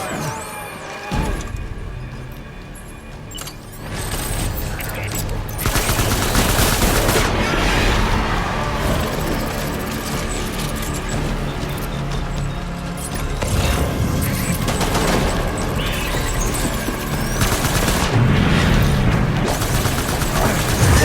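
Video game firefight in Death Stranding: bursts of automatic gunfire and booming impacts, loud and close, layered over a continuous rumbling backdrop with crashes scattered throughout.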